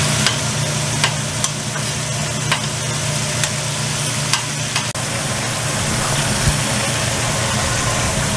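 Burgers cook slowly on a flat griddle at a Port Isabel, Texas burger shack, giving a loud, continuous sizzle with scattered light clicks and scrapes over a low mechanical hum.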